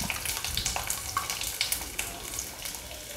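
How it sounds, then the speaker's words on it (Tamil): Small chopped shallots sautéing in a pan with mustard seeds and curry leaves, a steady close sizzle with scattered crackles and pops throughout, no voices. "வெங்காயத்தை நல்லா வதக்கிக்கலாம்"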